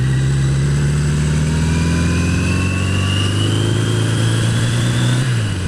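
A motorcycle engine revs loudly and steadily up close on its first ride in almost a year, the pitch climbing smoothly before dropping off near the end.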